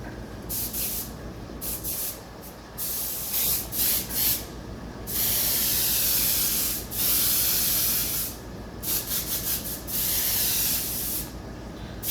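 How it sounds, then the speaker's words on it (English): An airbrush spraying a light coat of pearl paint for ghost flames, close hissing bursts of varying length that start and stop repeatedly, with short pauses between passes. "I'm just going to spray a very light coat, and I will maybe only go one coat, no more than 2 coats on this."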